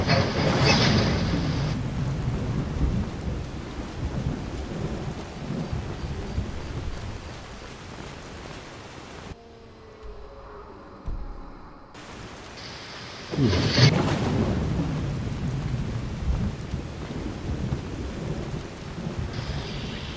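Thunderstorm in Skyrim with steady heavy rain and loud rolling thunder crashes near the start and again midway, separated by a brief quiet, dark stretch of faint low rumbling.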